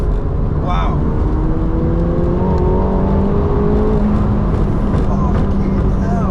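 McLaren 720S supercar engine pulling hard under acceleration from inside the cabin, a loud, continuous roar with rising tones, heard up close without pause.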